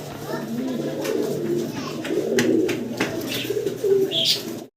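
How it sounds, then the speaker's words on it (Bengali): Bukhara pigeons coo nearby in soft, repeated throaty rolls, layered with occasional chirps while people talk alongside. "খুব সুন্দর কবুতর একদম পুতুলের মতন সুন্দর"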